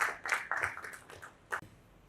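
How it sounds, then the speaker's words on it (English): A small audience claps in a few scattered bursts at a Kumasi event, the applause thin and uneven, swelling briefly and fading between pulses. "Please, a round of applause for him"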